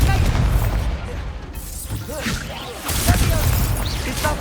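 Confringo blasting spell explosions in a Hogwarts Legacy wand duel at night, booming blasts and crackling bursts in quick succession over a dense low rumble, loud and close.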